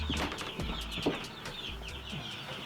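Backyard chickens cluck softly on a morning chore round, several short clucks and peeps scattered over a quiet outdoor background, with no talking.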